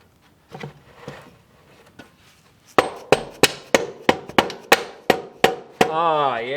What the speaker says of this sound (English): trusty rubber mallet.